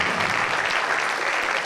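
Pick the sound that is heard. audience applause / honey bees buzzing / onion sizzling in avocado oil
audience applause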